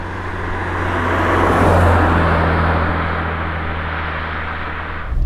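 A BMW 850i with an automatic gearbox cruising, a low steady engine drone and road roar inside the cabin that swells slightly and then settles, with no one talking.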